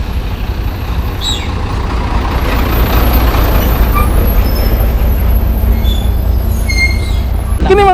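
Heavy trucks roll past on a dirt access road being built near Tigatto and Cabantian in Davao City, a loud continuous rumble with hissing air brakes, and a short high-pitched sweep near the end.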